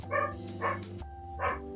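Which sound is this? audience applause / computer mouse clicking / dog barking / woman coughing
dog barking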